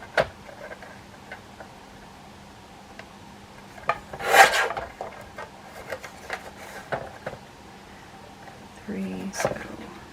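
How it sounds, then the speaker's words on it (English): A cardstock card piece is trimmed down to one inch with a single short, fairly loud rasping cut in the middle, amid quiet room sounds and faint scattered ticks. "let me cut this one down to 1 inch."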